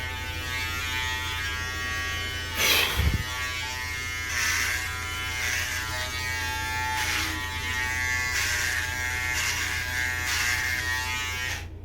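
A steady electric shaver buzz runs throughout while shaving a head bald, close and continuous, with a brief louder scrape near the start as it presses against hair.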